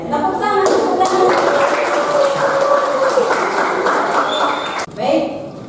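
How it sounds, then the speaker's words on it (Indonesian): A class of students claps their hands together in a school lesson, a steady burst of clapping with a tonal voice-like line running through it, then a sudden cutoff and a brief voice near the end. "Tepuk tangan, tepuk tangan."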